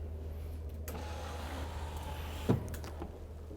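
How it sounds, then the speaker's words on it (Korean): A Thule electric step on a 2022 Pilote P746GJ C-class European diesel motorhome retracts with a steady motor hum over a low engine drone, then ends in a firm clunk near the end. "툴레의 전동 스텝, 이 전동 스텝까지도 마찬가지로 차 시동을 걸 때 안전상의 이유로 자동으로 들어가도록"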